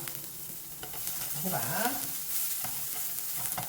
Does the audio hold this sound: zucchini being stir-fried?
yes